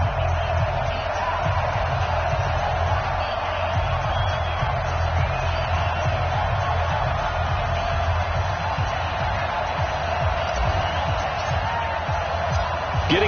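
Stadium crowd in an EA Sports NFL video game before a Cleveland Browns versus Chicago Bears matchup, a steady, dense roar of voices holding at an even level throughout.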